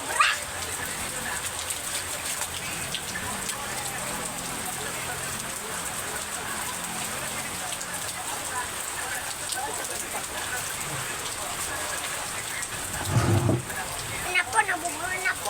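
Steady rain patters on a surface, a constant hiss with voices talking faintly and a dog barking briefly.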